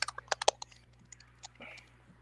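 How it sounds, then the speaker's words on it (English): Soft keyboard typing, a quick cluster of clicks at first and then a few scattered taps, faint against a quiet background hum. "We can hear typing right now"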